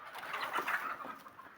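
Free-range country chickens crowding around soaked wheat at a village poultry farm, a jumble of overlapping clucks and murmurs at moderate volume, close by and continuous without any talking.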